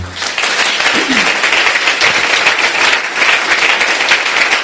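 A church congregation applauds loudly and continuously, many hands clapping in a dense, steady roar that fills the room, with voices faintly mixed in.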